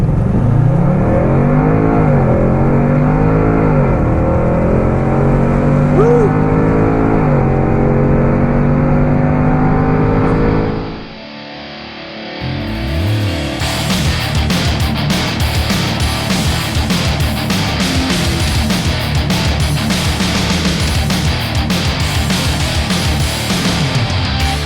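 A luxury SUV with its windows down accelerates hard, a loud engine note climbing in pitch before a brief dip at a shift, then sustained strong engine and rushing road and wind noise inside the cabin.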